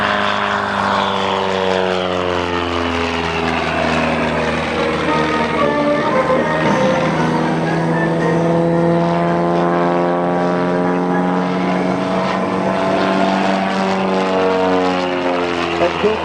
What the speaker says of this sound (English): now he pulls that airplane right on up into the corner at airshow right